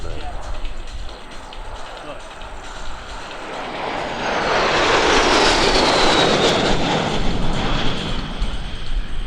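Jets of the Black Diamond Jet Team at an airshow roar past from left to right, a broad engine rush that swells loudly mid-pass and holds, with a rising whine on top.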